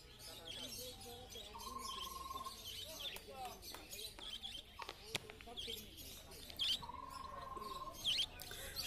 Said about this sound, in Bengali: এবারে যে বদ্রি পাখিগুলো দেখতে পাচ্ছেন